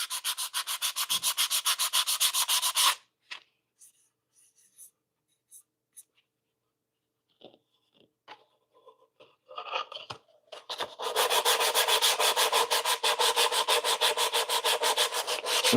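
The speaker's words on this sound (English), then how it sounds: "I so badly want to just get out the power sander here" An orbital power sander works mahogany wood for a desk organizer, a loud, steady, gritty whir for a few seconds that cuts out into quiet scrapes and taps, then starts up again and runs steadily to the end.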